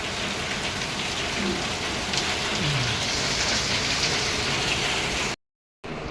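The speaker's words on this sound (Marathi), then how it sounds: "इकडे पण धुवाधार पाऊस चालू झाला" Heavy rain pours down steadily, a dense, unbroken hiss with no other sound, cutting out briefly near the end.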